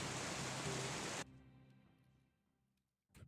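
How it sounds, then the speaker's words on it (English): Steady rain ambience plays as a sound effect during a tabletop role-playing game session, then cuts off abruptly and leaves faint room noise. "Turn off the rain."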